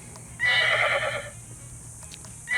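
A synthetic horse neigh plays as the selectable bell sound on an Urtopia Carbon 1 ST e-bike, one loud whinny lasting about a second, clear and close with no talking over it.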